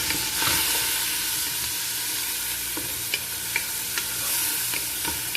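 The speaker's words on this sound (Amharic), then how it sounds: "እዚህ መልኩ ሽንኩርቴን አቁላላለሁ።" Onions fry in a modest amount of oil in a heavy lidded iron pot, giving a continuous close sizzle with occasional crackles and stirring scrapes. No one speaks.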